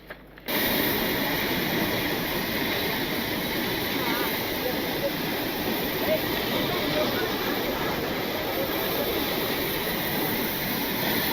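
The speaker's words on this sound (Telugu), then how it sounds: "ఎగువ అహోబిలం క్షేత్రంలోని ఆలయ సమీపంలో వాటర్ ఫాల్స్కు భారీ వరద నీరు రావడంతో కనువిందు చేస్తున్నాయి" Bhavanasi waterfall near the temple at Upper Ahobilam, swollen with heavy floodwater after rains, roaring as a steady, loud, broadband rush that runs without a break from the first half-second to the end.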